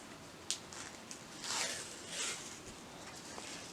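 Adhesive tape peels off the roll and wraps snugly around a wrist in quiet, crackling bursts, with a sharp tearing rip near the start and softer stretching sounds after it. The sound is faint and close.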